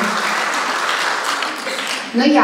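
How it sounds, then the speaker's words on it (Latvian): Audience at a folk dance group's anniversary celebration applauding the dancers, a broad, even patter of clapping throughout, with a voice briefly cutting in near the end. "Aplausi mūsu dejotājām."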